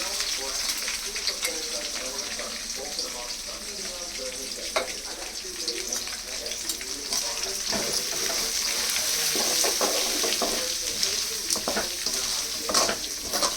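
Onion, green chili and capsicum frying in a pan, a steady broadband sizzle running throughout with occasional stirring scrapes, while a person talks over it.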